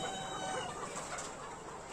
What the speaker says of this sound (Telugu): ప్యూర్ నాటుకోళ్ళు హైబ్రిడ్ కాదు